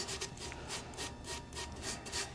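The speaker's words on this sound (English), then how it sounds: "you're just gonna take a gloved hand and you're just going to rub it in" A gloved hand rubs loose glitter onto a tumbler cup, giving a close, soft rhythmic scratchy rasp that swells and fades in repeated strokes, with no voices.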